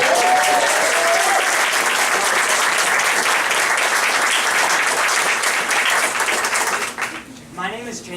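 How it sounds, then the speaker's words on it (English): An audience at a Virginia climate change commission event gives sustained loud applause, dense clapping that fades out near the end as a voice begins. "Give him a big round of applause."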